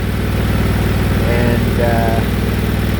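A Briggs & Stratton replacement engine runs steadily in the breaking-in stage, a continuous loud idle-like drone with a person speaking briefly over it.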